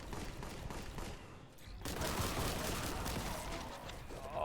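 Rapid bolt gun fire in a Warhammer 40k video game, a dense, continuous burst of heavy gunfire that grows louder and fuller partway through, with no talk over it.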